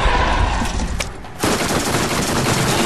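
Video game gunfire while fighting the boss Crawmerax in Borderlands: a dense, continuous stream of rapid shots with a brief lull in the middle before the firing resumes at full strength.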